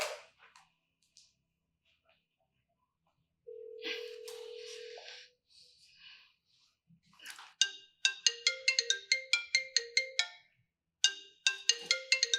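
A telephone ringtone in a Nigerian drama: bursts of rapid, bright electronic chirps repeat several times in quick succession after a quieter stretch, fairly close and with no talking over them.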